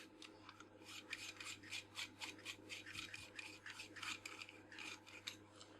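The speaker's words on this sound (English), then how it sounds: "This is simply done by unscrewing." Part of a Nikon Nikkor 55mm f1.2 lens is unscrewed, giving faint, close, rhythmic scraping and grinding of threads, heard alone.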